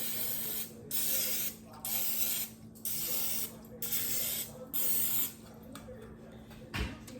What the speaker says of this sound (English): I'm gonna spritz them with a little bit of olive oil spray.